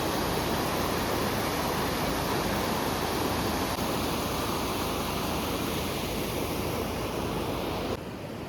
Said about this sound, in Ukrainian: З цієї сторони вода так стрімко тече.